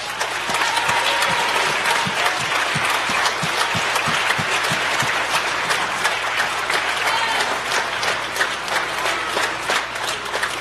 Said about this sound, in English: let's give the 8th graders a round of applause